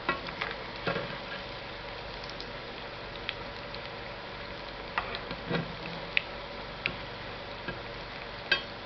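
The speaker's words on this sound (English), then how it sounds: "Just put the spoon under them and slowly flip them." Gobi manchurian cauliflower pieces frying in hot oil while a spoon flips them, producing a soft, steady sizzle with scattered light clicks and taps of the spoon against the pan.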